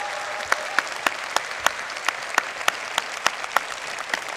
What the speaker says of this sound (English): So please, a round of applause for the developers.